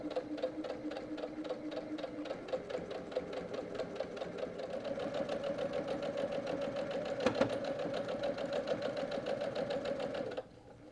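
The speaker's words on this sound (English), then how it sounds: "Let's start sewing." A sewing machine top-stitches a quilted towel, running steadily at a fast, even stitching rhythm for about ten seconds before stopping, close and alone.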